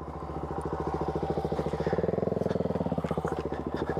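A 2023 Honda XR150L small motorcycle being ridden, its single-cylinder engine thrumming in a fast, even pulse that swells as the revs climb midway, close and fairly loud.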